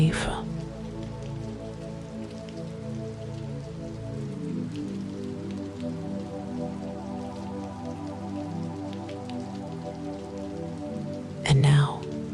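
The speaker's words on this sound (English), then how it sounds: "Rain on glass." Rain pattering steadily on window glass in a warm indoor room, a soft continuous patter of drops, with a calm voice speaking gently over it throughout.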